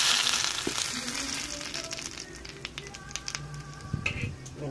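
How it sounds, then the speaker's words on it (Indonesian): Crumbled fermented tempeh stir-frying in a little hot oil, with a steady broadband sizzle and crackle and some scraping stir sounds, close and continuous for the whole stretch without talk. "Jadi tempenya kita goreng oseng-oseng dulu ya, biar garing"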